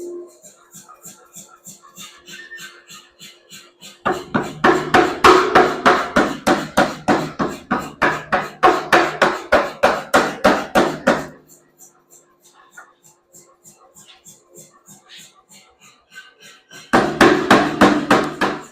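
Hammer blows forging a hot feather pattern Damascus steel billet, a loud rapid rhythmic series of ringing strikes in two long bursts separated by a quiet pause, then resuming at the end.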